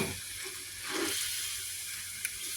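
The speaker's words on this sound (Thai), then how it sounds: "ต้องผัดให้สุก ถ้าผัดไม่สุกก็จะเหม็นเขียวนะคะ" Bean sprouts with chicken blood stir-fry in a pan, a soft, continuous sizzle that holds steady for a couple of seconds with one small clink toward the end.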